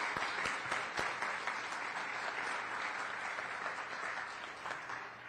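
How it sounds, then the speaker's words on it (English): A crowd claps for graduates at a school graduation ceremony, sustained even applause with a few sharp individual claps standing out near the start. "Let's give them another round of applause."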